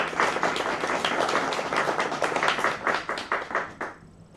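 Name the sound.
audience applause for event sponsors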